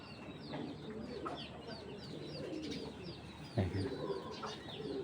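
A female pigeon coos softly amid other fowl clucking and calling in a loft, a low, fairly faint murmur of bird sounds with a brief thump partway through.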